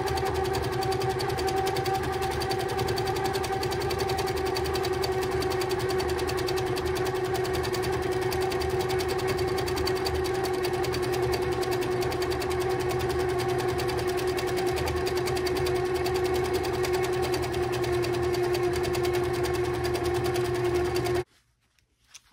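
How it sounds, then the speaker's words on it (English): A sewing machine runs steadily while quilting a sashing or border design, its fast even whirring hum with a high whine holding for about twenty seconds before cutting off abruptly. "So we'll go ahead and we'll start quilting that."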